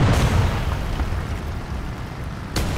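Artillery explosions in a video game, a rumbling low boom at the start that rolls on and decays, with a sharper second blast near the end.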